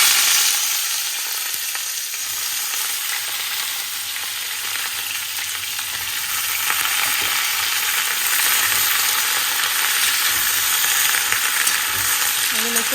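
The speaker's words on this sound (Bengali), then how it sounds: "এই কালো জিরে ফোড়ন দিয়ে শিমগুলোকে ভেজে নেব" Green beans frying in a pan with black cumin, a continuous bright sizzle and crackle that holds steady throughout, close by and fairly loud, with faint occasional stirring.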